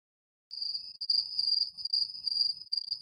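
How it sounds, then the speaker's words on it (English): Steady cricket chirping, a bright continuous trill pulsing rapidly after a half-second of silence, moderately loud and alone with no voices. "I got these crickets chirping that I hope you can hear"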